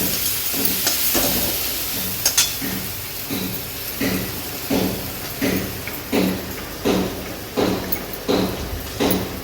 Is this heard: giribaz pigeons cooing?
no